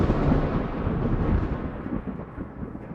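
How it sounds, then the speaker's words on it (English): Thunder rumbling after a lightning strike, a loud, continuous low roll that stays heavy and slowly fades over a few seconds, with no voices. "what we hear is multiple rumbles of that short, sharp bang"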